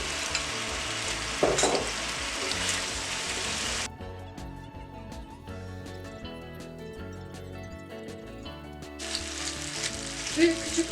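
Zucchini and tomatoes sizzle and crackle steadily in a hot pan, with occasional stirring clatter. The frying fades for a stretch, then returns loudly.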